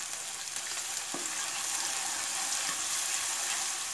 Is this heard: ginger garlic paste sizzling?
yes